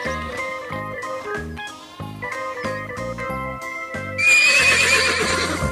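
A horse gives a loud, shrill whinny near the end, rising over light rhythmic background music that plays throughout.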